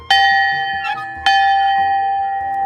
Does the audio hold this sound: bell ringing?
yes